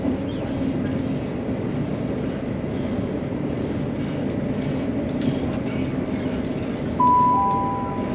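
Steady low rumble of a passenger train running toward Dalmeny station near the Forth Bridge, heard from inside as continuous rolling noise with a brief tone near the end.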